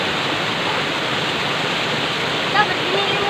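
Wara Wara Falls in San Isidro, Bulan, Sorsogon roars in a steady, dense rush of falling water that fills the whole stretch, close and loud, with a faint brief chirp near the end.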